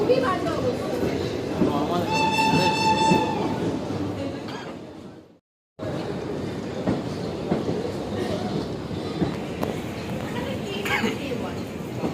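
Heard from inside a passenger train on a trip toward Himachal, the carriage rumbles along the rails in a constant low roar, briefly dropping out before resuming, with people talking over it.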